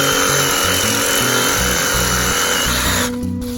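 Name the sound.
cutting yucca palm limbs with a power tool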